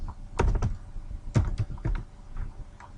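Typing on a computer keyboard, a few close bursts of quick clicking keystrokes separated by brief pauses, moderately loud with no talking.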